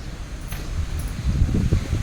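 Strong wind gusts outdoors on a farm, rumbling steadily against the microphone with a rustling wash that builds louder toward the end; no voices.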